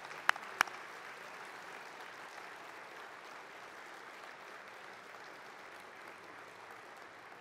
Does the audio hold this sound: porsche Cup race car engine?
no